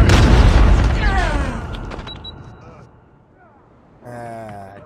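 A grenade blast in the Call of Duty Mobile shooter booms loud and close at the start, its rumble fading over a few seconds, then a voice speaks near the end.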